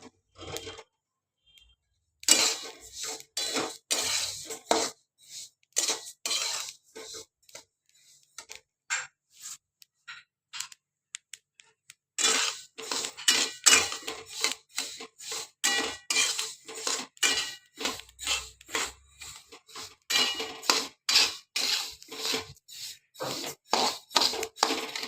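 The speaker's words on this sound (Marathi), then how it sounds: "व्यवस्थित असं हलवून मस्त छान हवरी भाजून घ्यायची." Sesame seeds dry-roasting in a kadhai and stirred steadily, giving dense bursts of crisp ticking, crackling and scraping clicks that come in waves and pause briefly, close and fairly loud.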